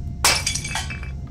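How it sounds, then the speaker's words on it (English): Glass shatters in the video game Alien vs Predator Classic 2000, one sharp loud crash followed by a brief tinkling scatter of falling shards, heard alone without speech. "Break the glass."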